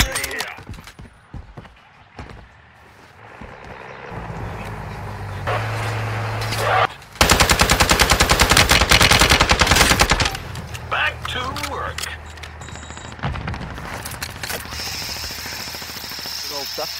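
Gunfire in the mobile battle royale game Warzone Mobile, including a loud sustained burst of automatic fire in the middle, with vehicle-like engine drone and other game noise around it and some voices.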